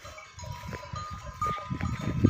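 Kangal sheep and this year's lambs on a farm, with bleating that rises and falls over low, busy farmyard noise and a few sustained calls close by.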